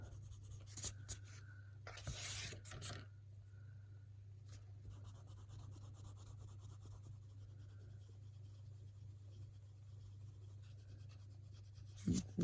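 Colorless blender pencil rubbed over Faber-Castell Polychromos colored pencil on Amazon paper, giving faint scratchy strokes in a few short bursts over a steady low hum, close and quiet.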